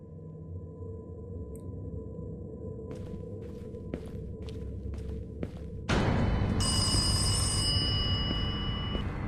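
A telephone rings inside a horror video game set around a temple, a repeating electronic ring that cuts in sharply partway through over a low, droning ambient score, with soft thuds and footsteps earlier on.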